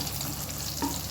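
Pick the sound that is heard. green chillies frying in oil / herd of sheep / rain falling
green chillies frying in oil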